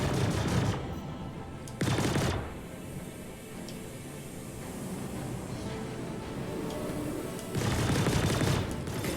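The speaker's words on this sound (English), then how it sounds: "It's not always that you're going to be fighting these really annoying Razers." Ship weapons firing in Star Citizen space combat against a Razor ship: loud bursts of rapid-fire shots in three clusters, with a rumbling engine-like drone between them and no talk.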